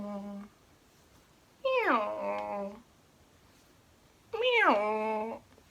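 A cat meows twice, each a loud, drawn-out, close call separated by a few seconds of quiet, with no other sound around it.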